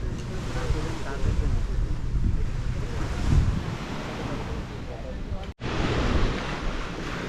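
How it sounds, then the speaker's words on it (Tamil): Surf breaking on Bharatpur beach at Neil Island in the Andamans, a steady near wash of waves with wind buffeting the microphone throughout, briefly cutting out for a moment before resuming. "நீல் ஐலாண்டில் உள்ள பரத்பூர் பீச் அப்படிங்கிற இடத்துல தான் இங்கே இருக்கிறோம்"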